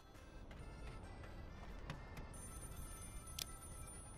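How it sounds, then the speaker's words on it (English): In the police-themed video game Contraband Police, a telephone rings in the background, a faint repeating ring under low game ambience and small clicks, with no voices. "We've got a phone call coming in"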